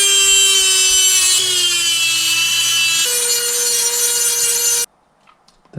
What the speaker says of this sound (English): Now I just want to grind those down real quick.